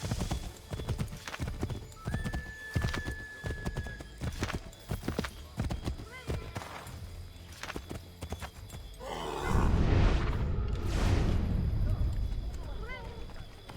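Horse hooves clip-clop in a steady rhythmic gait in the Assassin's Creed III video game, close and distinct, with a horse whinny and a rising burst of noise near the end.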